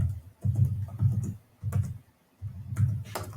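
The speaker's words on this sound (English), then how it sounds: "So we're just going to type in for now." Short bursts of typing on a computer keyboard while entering text into an AutoCAD title block, a few quick clusters of soft close clicks separated by brief pauses.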